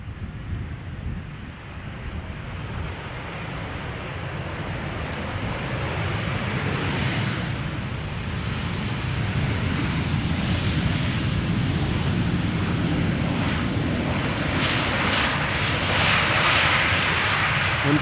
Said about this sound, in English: This is KLM flight 1216, arrival from Stockholm,